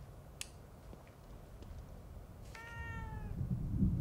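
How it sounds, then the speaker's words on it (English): A cat in the survival-horror game The Evil Within 2 lets out one clear, drawn-out meow near the end, following a sharp click and a quiet, rumbling stretch. "I hear a cat."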